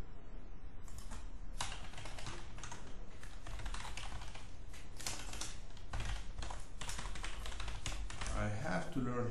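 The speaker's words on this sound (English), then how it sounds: "I have to learn how to type in my name." Typing a name on a computer keyboard, bursts of quick close key clicks with short pauses between them, fairly quiet.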